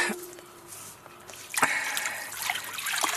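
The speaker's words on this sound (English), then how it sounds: "Oh, that's the first scrub, just with water." Water being used to scrub something outdoors in a garden, with a soft trickling, splashing wash that swells partway through and continues unevenly at moderate loudness.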